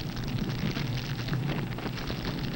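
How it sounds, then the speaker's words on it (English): Ordinary explosive burns inside a nuclear weapon during a fire test, giving a steady dense roaring rush with crackling texture, loud and unbroken throughout. "The characteristic white flame indicates that the ordinary explosive is burning"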